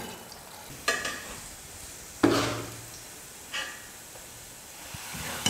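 Gulab jamun made from rava frying in oil over a medium flame, a soft steady sizzle broken by a few louder scrapes as the balls are stirred in the pan.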